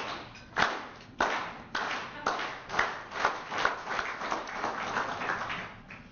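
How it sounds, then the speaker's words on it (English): An audience at a staff awards gathering starts a slow clap, single loud claps spaced about half a second apart that quicken and blur into steadier clapping. "I think we should slow clap him in this morning"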